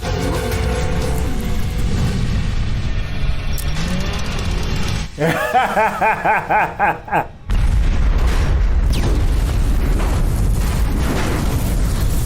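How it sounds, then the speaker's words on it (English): Heavy booming explosions and deep rumbling roar through a scene from the film Dhoom 2, broken by a brief choppy stretch of sharp pops before the blasts surge back. "We at least got some explosions."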